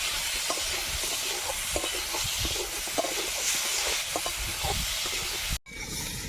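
Chopped kadam (burflower fruit) frying in spiced masala in a village kitchen, a steady loud hiss and sizzle with crackling pops throughout, cutting off abruptly near the end.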